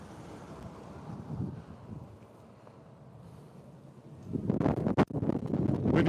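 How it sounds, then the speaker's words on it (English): Wind blows outdoors near a correctional facility during a protest, a faint low rumble that swells into loud, buffeting gusts against the microphone toward the end. "Windy day today."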